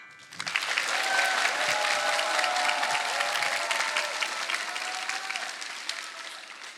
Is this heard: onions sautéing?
no